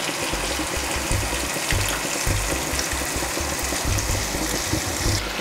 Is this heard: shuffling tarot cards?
no